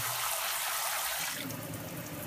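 Rice being rinsed under running water in a kitchen, a steady close stream of water that shifts in tone partway through, with no talking.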